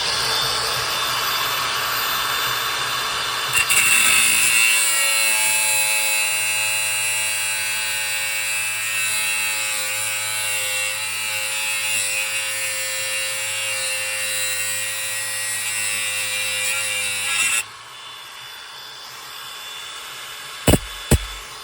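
An angle grinder or cutoff tool cutting back wheel studs on a Mercedes R107/R129/R230 500SL, a loud steady high-pitched metallic whine for about thirteen seconds before stopping abruptly, followed by a couple of sharp clicks.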